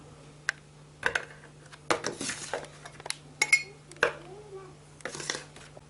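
A spoon clinks against dishes and bowls while ingredients are measured out for petit four cookie dough. The sharp, irregular taps and clatters come close and fairly loud, spread across several seconds, with a faint steady hum beneath.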